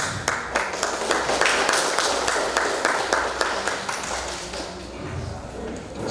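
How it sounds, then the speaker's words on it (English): Applause from an audience at an English debate competition between two school teams, a sustained burst of dense, close clapping lasting several seconds that slowly thins out toward the end. "let's us give big support to the two teams by giving big applause"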